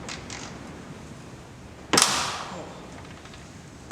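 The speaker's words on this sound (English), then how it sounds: "Alright, got the top bolt off." A tailgate bolt on a 2015+ Ford F-150 is worked loose with a 10mm wrench, giving one sharp crack partway through that fades into a brief hiss over quiet background noise.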